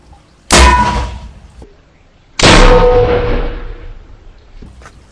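Two loud, sharp blasts from a spirit-fuel firecracker fired from a jumbo tube, each a sudden bang that rings and decays over about two seconds, with a faint click between them.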